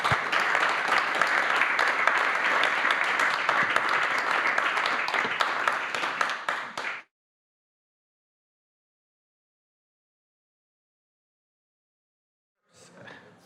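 A conference audience applauds a panel at an energy security discussion event, a dense, steady burst of clapping for about seven seconds that stops abruptly, followed by silence and a brief return of clapping at the end.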